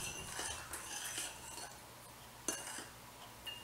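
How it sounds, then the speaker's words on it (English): Homemade wheat, cinnamon and raisin pancake batter stirred in a bowl with a utensil, a quiet run of soft scrapes and light clinks at close range, with no talking. "I'm going to stir it a little bit."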